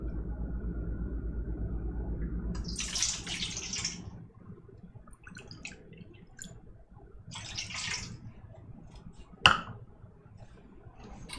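Ice cold water, 1.5 cups, is poured in a kitchen while making banana pudding. A low rumbling wash gives way to short splashy bursts and a sharp clink near the end, with no talking.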